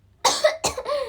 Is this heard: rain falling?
no